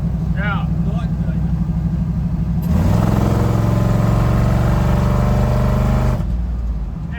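A 1964 Ford F-100 pickup truck's loud rumbling engine idles and then revs, with a deep exhaust drone that steadies before easing off; a voice is briefly heard early on.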